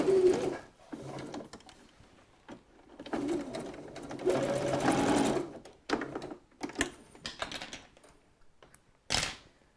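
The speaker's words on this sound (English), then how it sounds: "So that has sewn all the way up the back of the leg." Sewing machine stitching fabric up the back of a garment leg, running in several bursts of rapid mechanical whirring with short pauses between, close and fairly loud, with no talk over it.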